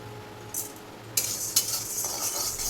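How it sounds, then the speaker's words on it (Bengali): A spoon stirs dal in a pot over the heat, making a few close scrapes and a soft sizzle that rises partway through and stays bubbling to the end. "ডাল নাড়ছি,"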